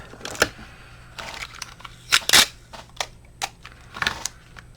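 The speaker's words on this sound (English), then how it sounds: "So I'm just going to use Scotch tape." Scotch tape is pulled from the roll and pressed onto a junk journal page, giving sharp crackling rips and taps in uneven bursts, close and fairly loud, with no voice.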